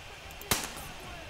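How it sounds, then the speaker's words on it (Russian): A single sharp gunshot in the video game Metro Exodus, a brief crack over quiet background noise with a short ringing tail. "Вот это прям меткий выстрел, слушай"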